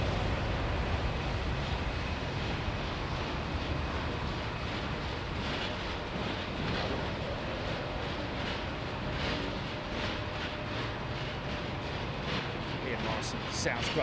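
A steady, loud roar of an airliner's engines during a flex takeoff at London Heathrow Airport, a continuous broadband rumble with wind buffeting that holds level throughout.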